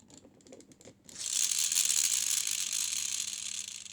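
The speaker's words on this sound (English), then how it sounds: "the older one was based around a pullback motor" A LEGO toy car with a pullback motor is wound back, a few faint clicks followed by a sustained, whirring ratchet buzz lasting a couple of seconds, close and quiet.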